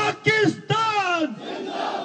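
A large crowd at a political rally in Karachi, held by several parties to show solidarity with the Pakistan army, roars a slogan back in unison. Two loud surging shouts of many voices follow each other closely.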